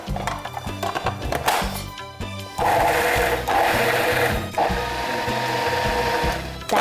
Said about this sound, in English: Now blitz the milk powder crumbs in a food processor until they're fine.